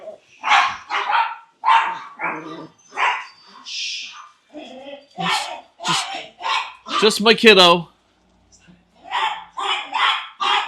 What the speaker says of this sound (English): so the dogs are going to go nuts.